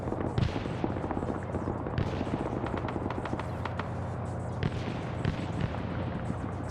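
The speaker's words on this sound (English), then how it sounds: "Schnuffles putting some rifle grenades out there" Rifle grenades and gunfire burst repeatedly in a Vietnam War video game, a dense, continuous crackle of sharp blasts and shots with heavy low rumble throughout, loud and sustained with no pause.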